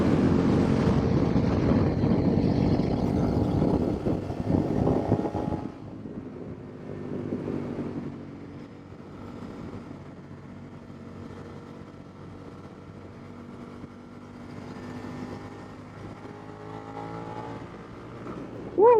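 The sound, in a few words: Suzuki SV650 motorcycle riding through city curves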